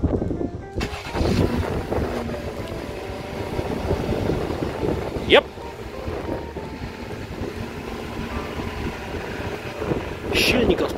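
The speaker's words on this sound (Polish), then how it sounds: "Silnik odpalił z charakterystycznym dla jednostki 36V6 brzmieniem." A Chrysler Pacifica Pinnacle 3.6 V6 AWD engine runs after a remote start outdoors, a steady low idle rumble under heavy wind buffeting, with a short spoken word partway through.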